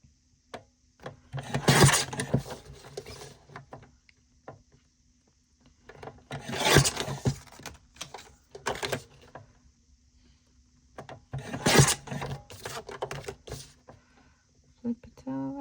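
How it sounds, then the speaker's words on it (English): Paper cutter blade chopping through laminated cash envelopes, three separate loud bursts of cutting and scraping a few seconds apart, with quiet handling between them. "I'm so sorry for the noise of the cutter."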